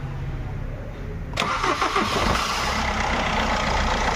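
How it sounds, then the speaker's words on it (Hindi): A Tata Manza's starter motor, dust-clogged and catching against the flywheel, grinds and whirs at close range as the engine is cranked, a harsh metallic rasp that begins abruptly after a quiet idle-like hum and continues steadily. "ऐसा स्टार्टर अटक के आवाज़ आ रहा है"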